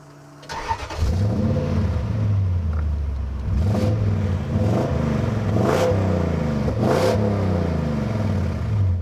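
Toyota Mark II with a swapped 1UZ-FE V8 starts up and settles into a loud, steady idle, then revs hard in several repeated blips, each rising and falling sharply, heard close with no talking.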